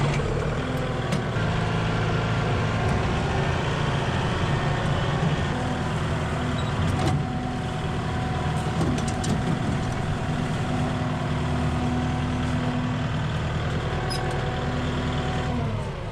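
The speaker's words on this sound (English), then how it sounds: "Let me drive the tractor down there." Tractor driven down a hillside path, its engine holding a steady, loud drone with a continuous low hum and occasional knocks and rattles throughout.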